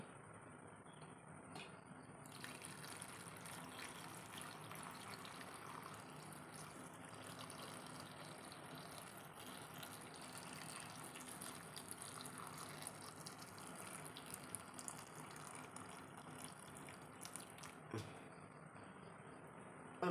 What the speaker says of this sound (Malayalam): ഇപ്പോൾ വെള്ളം ഒഴിച്ചു കൊടുക്കാം നമ്മൾ വെള്ളമൊക്കെ ചൂടാറിയിരിക്കുകയാണ്